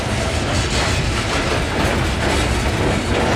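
A CSX coal train with ES44 locomotives creeps past on curved track, a steady loud rumble of railcars with rhythmic wheel clatter, close and continuous throughout.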